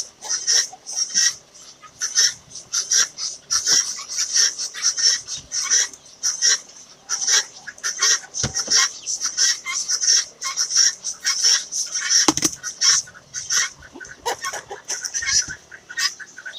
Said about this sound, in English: what you hear going really loud right now, those are actually the guineas